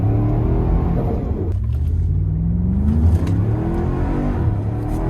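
A powerful Nissan Patrol Y62 SUV engine with a twin-turbo kit revs and accelerates close by, a deep rumbling drone rising in pitch through the gears with turbo whir.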